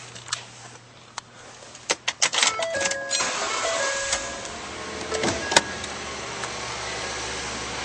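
A 2011 Ford F-150 engine is started, with a few clicks and a cranking burst giving way to a steady idle hum that fills the rest of the clip, with no talking.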